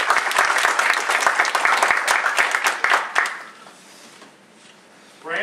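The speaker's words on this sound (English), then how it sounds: "Would like you to join me in just a round of applause for her putting this together." A business audience at a launch event for an entrepreneurship center gives a round of applause, brisk and fairly loud clapping for about three seconds before it fades to quiet, then a voice begins.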